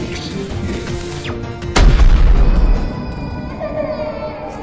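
Cannon fire in a horror video game booms out as one loud, deep blast, followed by a long rumbling decay over continuous game music and background noise.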